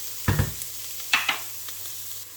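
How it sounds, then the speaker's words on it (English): Onions frying in a pan for a lentil and cardamom soup, stirred with a few scraping strokes over a steady soft sizzle, quiet and close with brief pauses between the stirs. "give it a stir, and we'll just give that another couple of minutes just to allow it just to fry and the onions to brown a bit more"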